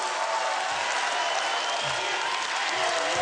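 Audience in the stands at a Ukrainian talent show breaks into applause, a dense, steady wash of clapping that carries evenly through the whole stretch with a faint murmur underneath.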